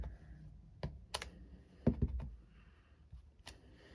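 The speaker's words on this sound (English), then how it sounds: "I'm going to stamp over the top of the gap areas, just to add real texture and dimension to the card." A rubber stamp is pressed onto cardstock several times while making a greeting card, each press giving a soft, dull thump with a brief papery tap, close by and spaced irregularly against a quiet room.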